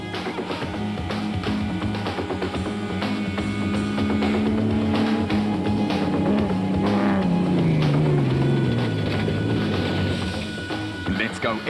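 A Saratoga game-capture Land Rover races hard along a rough off-road rally route, with a steady engine drone that holds and then falls in pitch, and constant rattling and clatter underneath.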